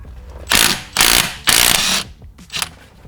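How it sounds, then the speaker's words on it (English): A Makita impact wrench hammers at the large centre nut on a Volvo V70 D5, three loud rattling bursts of about half a second each, then a shorter, quieter burst, close up. "Now I am going to try and use the Makita to undo the big bolts in the middle"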